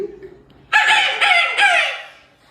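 A single loud junglefowl crow rings out close by, a rising then drawn-out call in several segments, with faint background noise before it.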